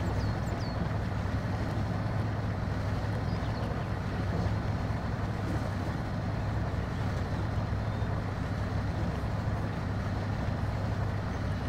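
Lifted Dodge D250 and Duramax trucks with large tires crawling off-road in the video game Spintires, a steady low engine drone that holds even and unbroken throughout, fairly loud and close with no voices.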